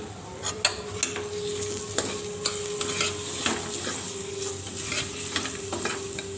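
Spices, asafoetida and coriander sizzle and fry in a hot pan for a dish of horse gram rasam, with a steady crackle broken by scattered clicks of a stirring spoon, close up and with no talking.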